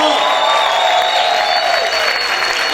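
A church congregation claps loudly and cheers in a dense, steady burst of applause, with whoops rising over the crowd noise throughout.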